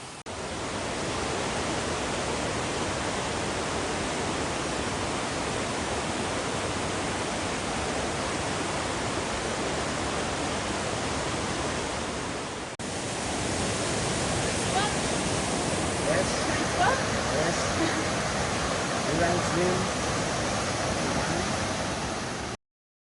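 Waterfall at the water source above the terraced plantations of Naone village, a loud, unbroken rushing roar filling the whole scene, with the sound shifting slightly partway through as the position changes.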